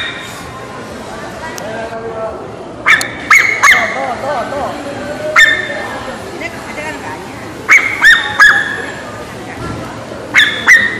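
A dog at a traditional market yips and barks in short repeated bursts at close range, with people talking and general market background noise around it.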